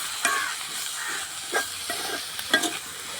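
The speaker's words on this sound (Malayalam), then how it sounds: "കരിവേപ്പിൻ്റെ ഇല, ഇഞ്ചി, പച്ചമുളക് എല്ലാതും അരിഞ്ഞ് കഴിഞ്ഞ് നമുക്കിത് വഴറ്റിയെടുക്കാം." Onions sautéing in a pan with curry leaves, ginger and green chili: a steady close sizzle with a few sharp stirring scrapes and clatters, no voices.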